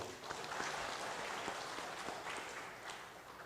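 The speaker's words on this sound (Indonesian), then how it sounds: "Tepuk tangan buat beliau." An audience applauds steadily at an event where a comedian is roasting a public official, with a dense wash of clapping throughout and no clear speech on top.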